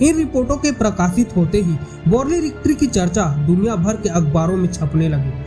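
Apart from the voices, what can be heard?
No distinct noise like a dog, phone or traffic.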